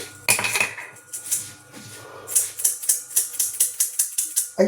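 Black pepper is crushed over a salad with a fork against a dish. Sharp metallic clinks and scrapes ring close and loud, first irregular, then a steady run of about a dozen quick, evenly spaced taps.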